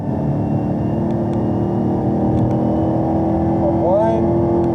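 A race car engine at an Ontario-area track, loud and continuous at a steady drone, rising in pitch near the end as the throttle opens back up, with a voice speaking over it.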